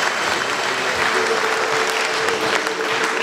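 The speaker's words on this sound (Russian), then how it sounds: "Наши общие аплодисменты." Sustained audience applause in a community hall at a city celebration marking the Komsomol centenary, a thick, even wash of clapping from a large crowd that stays loud from start to finish.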